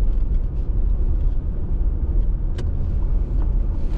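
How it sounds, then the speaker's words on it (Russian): A car drives slowly and pulls in to park on a village lane, skirting a heap of material, its engine a steady close low rumble with no talk over it. "Так, припаркуем автомобиль наш где-нибудь вот здесь."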